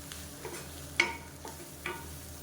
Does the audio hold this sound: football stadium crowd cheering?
no